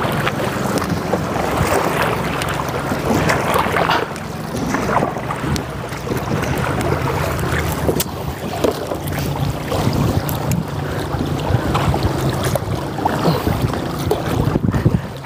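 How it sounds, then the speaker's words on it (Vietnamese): Small boat paddled through a culvert against a strong current, with steady rushing water and wind noise throughout, dense and close with no clear speech. "Bây giờ bơi qua một cái con cống. Cống này nước chảy mạnh á."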